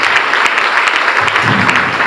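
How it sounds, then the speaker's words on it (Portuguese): Loud, dense applause from a church congregation at a large cell-vision congress, with clapping and some cheering sustained throughout the short burst. "Dá um aplauso a Ele."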